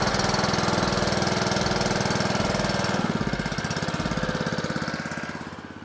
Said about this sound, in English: If you can keep the motor running, we actually leave these idling all day long